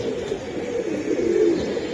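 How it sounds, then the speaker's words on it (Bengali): Silver pigeons of full silver quality, kept for sale, coo in low, steady murmuring calls that run continuously, close by and moderately loud, with no talk. "এই যে সিলভার কবুতর, একদম ডয়ের সিলভার"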